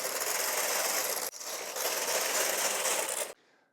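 A Brother 965i knitting machine knits a Fair Isle spencer with edge weights on the sides. The carriage makes a loud, steady whirring rasp across two passes with a brief break between them, then stops abruptly.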